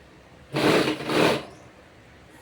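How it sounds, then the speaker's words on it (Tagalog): A sewing machine stitches rigilene boning straight onto a corset lining in two quick bursts of close, steady motor whirring with a short pause between them, then near silence. "Mas maganda kung idediretso mo siyang tahi sa lining."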